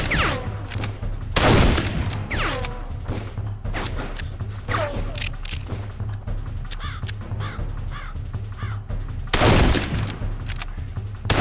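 Assault-rifle fire in the video game Darkest of Days, repeated loud bursts of sharp close shots spread across the scene, with crows cawing between the volleys.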